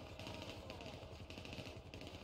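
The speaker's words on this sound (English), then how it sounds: "I can hear a helicopter, but I can't see it." Helicopter in the video game Grand Theft Auto V, a steady rhythmic rotor thrum with engine drone heard at moderate distance, continuous and fairly faint throughout.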